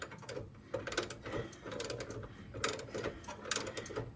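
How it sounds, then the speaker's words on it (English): Ratchet working a nut loose on a John Deere S120 riding lawn mower during a deck belt job, giving irregular bursts of quick metallic clicking with short pauses between strokes, close up. "Now I'm switching to the ratchet."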